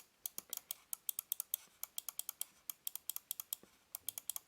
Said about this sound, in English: You can hear it is clicking away